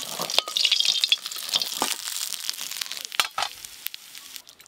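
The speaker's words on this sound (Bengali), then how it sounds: "ইলিশ মাছের মাথাগুলো ভালো করে ভেজে নিয়েছি" Hilsa fish heads fry in oil in a pan, a close crackling sizzle with scattered pops and stirring scrapes, loudest at first and thinning toward the end, with no talking.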